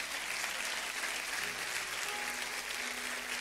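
A church congregation applauds at a pastors' and missionaries' presentation, a steady wash of clapping heard from a distance at low level throughout.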